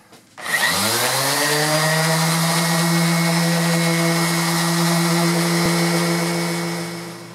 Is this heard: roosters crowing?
no